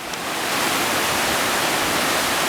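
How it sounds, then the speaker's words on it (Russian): Steady, broadband roar of a rushing mountain stream in a remote taiga wilderness, loud and close, continuous with no pauses and no voices. "шум воды"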